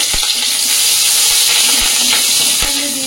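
Green chili, garlic and ginger hitting hot oil in a wok, a loud steady sizzle and hiss with a few soft knocks of stirring throughout.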